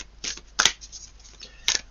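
Tarot cards being shuffled by hand, heard close up and quiet. A few soft riffling bursts and paper flicks come in an uneven rhythm against a near-silent background.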